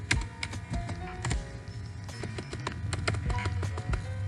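Steady typing on a computer keyboard, with irregular clicking keystrokes close by and no talk.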